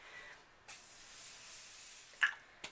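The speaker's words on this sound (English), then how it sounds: "Setting spray, the Sweet Peach one." Sweet Peach setting spray mists from a pump bottle in a few quick, soft hissing spritzes, faint and close in a quiet room.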